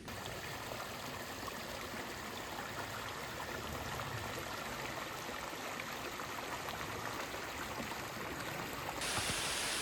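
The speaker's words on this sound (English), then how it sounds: "Well, sudden rainstorm." A sudden rainstorm falls on a forest trail near a hiking shelter, a dense steady hiss of rain that swells slightly louder toward the end, with no voices.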